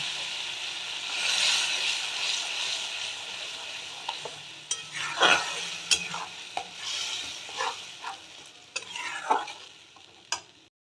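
Spice paste frying and being stirred in a pan for a winter new-potato dum, a steady close sizzle broken by repeated scraping strokes of the spoon through the paste.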